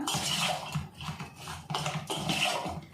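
Cut raw mango pieces being stirred with salt and chili powder for pickle: a spoon scrapes and clacks against the bowl in repeated close, uneven strokes.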